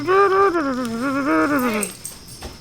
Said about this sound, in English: stop digging that hole. Damn dogs.